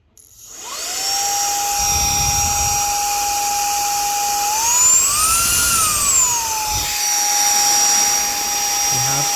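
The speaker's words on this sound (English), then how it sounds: "Now I'm going to test the vacuum" A REIKIYA HV-C11 cordless handheld mini vacuum cleaner runs on power level 1, giving a steady close, loud motor whine that starts up quickly and briefly rises in pitch midway before settling back.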